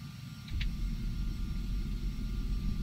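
An Embraer Phenom 300 business jet taxiing in Flight Simulator X gives off a low, steady engine rumble that swells slightly and then holds constant, with no one speaking.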